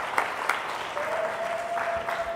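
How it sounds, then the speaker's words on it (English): An audience at a conference session on climate solutions applauds steadily for a couple of seconds at moderate volume, with a few sharper claps near the start. "And applause,"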